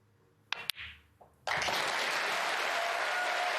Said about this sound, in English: And what a cheer.